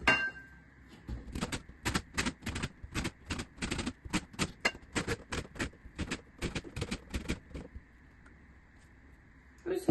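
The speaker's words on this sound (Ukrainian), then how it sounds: "Я беру терку і натираю половинку апельсину." Half an orange is rubbed against a grater to take off the zest, producing about twenty crisp, scratchy strokes in a steady rhythm, close and clear, with short pauses near the start and end.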